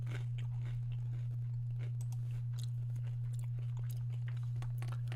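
Someone chews crunchy chips close to the mic, with irregular small crunches over a loud, steady electrical hum.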